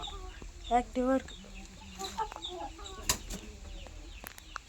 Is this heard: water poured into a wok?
no